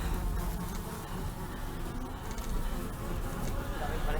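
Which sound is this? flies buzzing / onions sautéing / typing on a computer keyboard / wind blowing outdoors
flies buzzing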